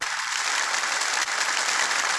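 A canned applause sound effect played on a podcast, a steady wash of crowd clapping that sounds somewhat distant and fills the whole moment without talk.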